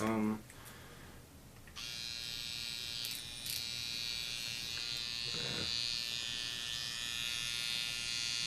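A Stigma wireless tattoo machine with a German coreless motor hums as a steady high-pitched electric buzz, which starts after a brief pause and then runs continuously close up.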